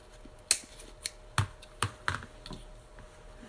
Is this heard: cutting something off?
yes